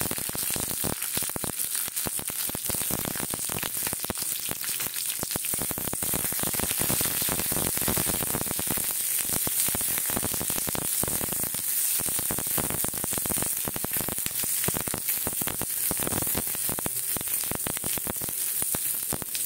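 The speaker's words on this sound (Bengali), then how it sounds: "তেলটা গরম হয়ে গেছে, এইবারে রসুনটা দিয়ে দেব। রসুন, ক্যাপসিকাম সব দিয়ে দেব।" Garlic and capsicum sizzle steadily in hot oil in a pan while chilli mushroom is cooked, a dense, continuous crackling frying hiss that stays close and even throughout, with no talking over it.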